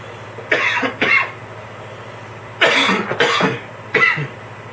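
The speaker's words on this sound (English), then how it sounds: "coughing is very common when you're using a vaporizer" Three bursts of harsh, raspy coughing close by after inhaling from a vaporizer, with short quiet gaps between them, against a low steady background hum.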